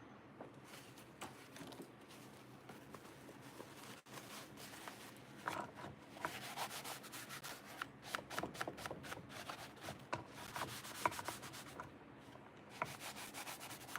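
Close sandpaper rubbing along the edges of a small crackle-finish craft piece done with Pentart Fineline Crackle, steady scratchy strokes that quicken and grow busier toward the end, with no talking.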